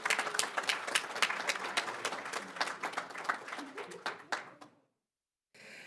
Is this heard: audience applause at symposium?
yes